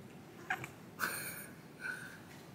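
A house cat gives a few soft, faint meows, short calls spaced about half a second apart in a quiet indoor room.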